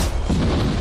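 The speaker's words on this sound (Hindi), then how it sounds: "आगे हम एक पूरे के पूरे गांव को एक क्रीपर धमाके से उड़ाने वाले हैं" A Minecraft creeper explosion from a video game, a loud, dense booming blast that fills the whole moment with low rumble and broadband noise.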